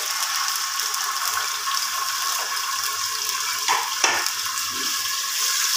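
Chopped onions hit about four to five tablespoons of hot oil in a pressure cooker pot, giving a steady, bright sizzle with a couple of brief clinks and scrapes partway through.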